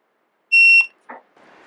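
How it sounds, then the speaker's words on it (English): Tire pressure monitoring system receiver, TST 507, beeping after its set button is pressed: one sharp, loud, high-pitched electronic beep of about a third of a second, followed by faint clicks and rustle. "you want to press the set button until it beeps"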